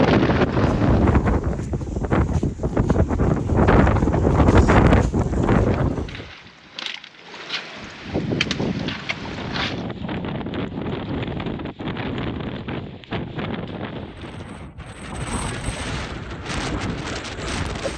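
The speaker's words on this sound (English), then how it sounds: "Just sick of the wind." Heavy wind buffets a microphone on a summit, a loud, continuous roaring rumble with a brief lull midway before the gusting resumes, steady and close throughout.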